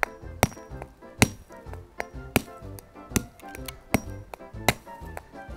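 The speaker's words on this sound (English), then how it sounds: "you can get a big grown-up hammer. We'll just take that off the glass, and then you can just start to break it open." Hammer striking an ice egg with a dinosaur frozen inside, seven or eight sharp cracking whacks at an uneven pace, each followed by the brittle clink and crunch of ice breaking apart.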